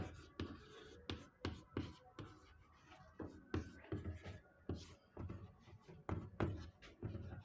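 Chalk or marker taps and strokes on a classroom board as a teacher writes, a quick uneven rhythm of short scratchy knocks, close and fairly quiet.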